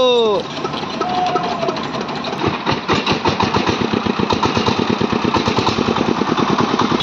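A van engine cranks, catches and settles into a loud, close idle with a fast, even chugging pulse, and a voice is briefly heard near the start.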